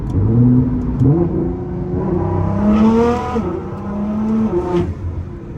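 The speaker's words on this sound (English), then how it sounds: "Let me show y'all the sound of this car." Nissan R35 GTR engine pulling hard while driving, heard from inside the car: revs climb in repeated rising sweeps with gear changes, a loud, close, throaty drone with no talking.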